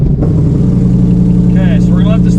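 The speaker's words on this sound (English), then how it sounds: "Okay, we're going to hit the start button." A Cobra Daytona replica's engine cranks over and settles into a loud, steady idle heard from inside the car, its deep rumble continuous throughout.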